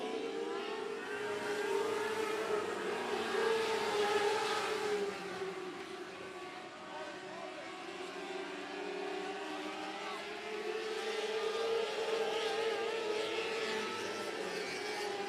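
Race cars roar around the 105 Speedway oval under green-flag racing, a steady loud blend of several engines droning and swelling as the pack passes, continuous throughout.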